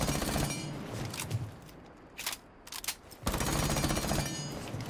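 In Rainbow Six, a Roni submachine gun fires in rapid bursts. A sustained stream of shots runs for over a second, then sparse scattered shots follow during a brief lull, then another long burst. Loud and dense, with no voices.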